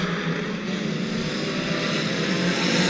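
Bomber class race cars at New Smyrna Speedway roaring at the start of a race, a loud continuous engine drone with a steady building rumble and no distinct gaps.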